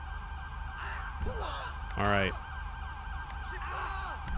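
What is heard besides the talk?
ambulance siren arriving in video game GTA V LSPDFR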